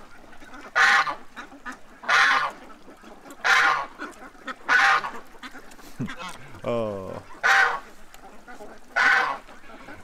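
Ducks and geese honk during a morning hunt, loud bursts of honking arriving at regular intervals, with a brief duck-call-like quack sequence midway and a man's short exclamation.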